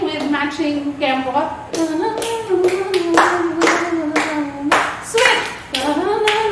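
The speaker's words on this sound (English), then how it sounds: "So it's just clapping with matching tempo." Rhythmic hand clapping kept to a matching tempo in a fitness routine, a run of crisp, evenly spaced claps close by, mixed with a voice singing or chanting throughout.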